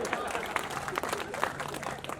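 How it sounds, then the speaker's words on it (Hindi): Audience applause at a Hindi comic poetry recital, a steady wash of many hands clapping continuously throughout, moderately loud and close. "अभी आधे लोगों ने तालियां बजाई"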